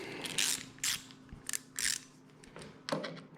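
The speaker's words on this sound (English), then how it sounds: "Just loose all of the bolts that you can see." Loosening airbox bolts on a 2009 Yamaha R6, several short close ratchet and scraping bursts separated by brief pauses, fairly quiet.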